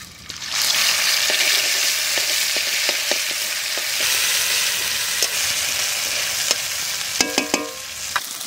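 Raw ground cumin paste hits a hot pan and sizzles in a loud, steady hiss, with light scraping and clicking from stirring scattered through and a short cluster of clinks near the end.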